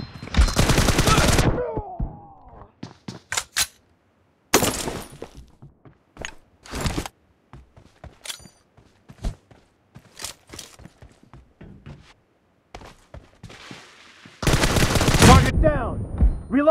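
Rapid bursts of gunfire in a shooting video game, loud volleys at the start and end with scattered single shots and short clusters between them, crisp and close.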